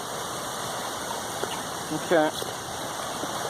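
A steady rushing of a small stream on a nature walk fills the background throughout, with brief splashing and clatter near the end as the water is crossed; a person speaks briefly.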